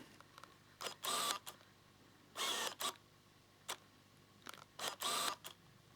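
The autofocus motor of a Tamron SP 28-75mm f/2.8 Nikon AF-D lens whirs in short mechanical bursts, three main grinding runs with small ticks between, heard close and alone in a quiet room.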